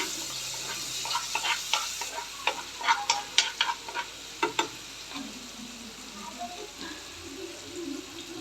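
Ginger, garlic and onion paste frying in a pan while a spoon stirs it, with a bright sizzle and a run of close scraping clicks and knocks in the first half that fade toward a quieter hiss.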